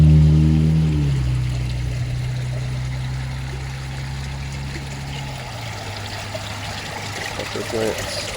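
Water from a fish-waste filter trickles and runs back into a backyard fish pond, a steady close splashing flow that follows a low mechanical hum fading out in the first second or so.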